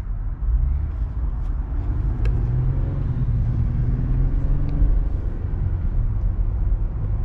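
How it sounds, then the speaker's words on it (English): Car traffic in downtown Chicago, heard from inside a custom Ferrari as a steady low engine and road rumble with passing vehicles and occasional revving, with no voices. "it wouldn't be a true trip to downtown Chicago if you didn't run into a little bit of traffic"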